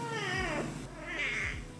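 A house cat gives two drawn-out, wavering meows close by, the second rising higher and longer, with low background hum between them and no talking.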